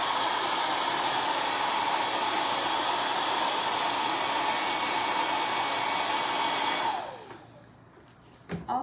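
A hair dryer blows steadily and loudly to dry a craft project, a constant rushing roar that cuts off near the end, leaving a few faint handling sounds.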